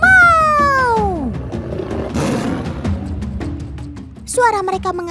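A tiger gives a few loud roars and growls, deep rasping bursts with brief gaps between them, followed by a sliding tonal sound near the end.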